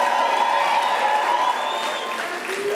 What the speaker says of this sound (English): May I please request you to at least applaud them